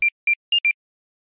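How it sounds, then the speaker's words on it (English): A pure sine-wave synth tone built in Serum as one layer of the Kim Possible ringtone, timed to 120 BPM, plays as four short clear beeps in a quick pattern of two spaced notes then a close pair. "And that's just a sine wave tone."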